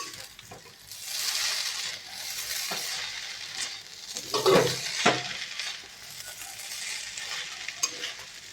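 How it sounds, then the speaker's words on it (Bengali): Hakka noodles stirred in a pan with soy sauce and ketchup, a steady scraping stir over a soft sizzle, with a couple of louder utensil scrapes near the middle; no talking. "সাবধানে নাড়তে হবে।"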